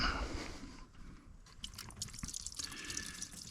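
Water poured from a jug onto the engine belt of a 2012 Dodge Journey with the 3.6 engine splashes and drips in a short, soft trickle, close by and fairly quiet.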